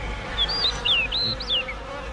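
Honeybees at a traditional beekeeping site, a steady insect drone rising and falling with several high, wavering tones drifting past close by, alone without any talk.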